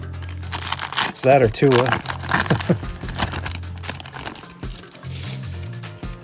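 Packs of 2024 Elite and Topps Chrome football trading cards crinkled and torn open close up, with bursts of wrapper crumpling as someone talks throughout.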